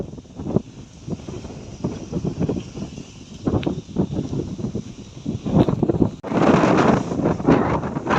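Wind blowing across open village countryside beside a mango orchard, gusting roughly against the microphone in loud bursts and surges, rising to a heavy buffeting rush near the end, with no one talking.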